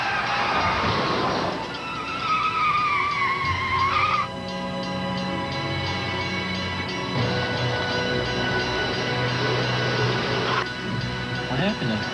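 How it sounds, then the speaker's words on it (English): A car stops hard near a railroad crossing with its tires skidding, a loud rising squeal that slides and then cuts off abruptly, followed by continued road and traffic noise with a voice talking over it. "She made this aggressive stop."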